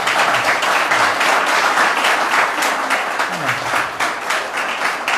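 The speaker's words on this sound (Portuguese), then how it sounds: "Mais uma salva de palmas para Jesus" Church members give a round of applause for Jesus during a service, loud continuous clapping throughout with a few voices calling out over it.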